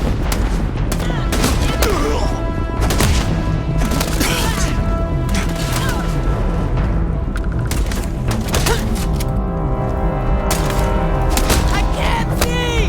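Dense, continuous gunfire fills a Starfield firefight, rapid shots and bursts piling up with crashes and mechanical clatter, loud and close throughout, with voices shouting over the shooting.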